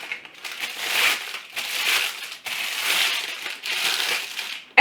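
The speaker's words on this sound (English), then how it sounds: "you just need to crumple it up." Parchment paper is crumpled by hand for a pumpkin roll pan, making loud, close crinkling and crushing in several continuous bursts with brief pauses between.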